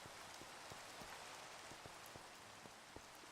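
Minecraft rain falls as a steady, quiet hiss with faint pattering drops scattered throughout, and no voices are heard.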